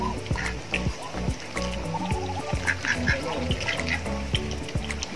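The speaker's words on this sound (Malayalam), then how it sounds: "കുട്ടനാടൻ താറാവുണ്ട്." Kuttanad ducks on a home farm quack repeatedly in short, close bursts, with faint water trickling behind them.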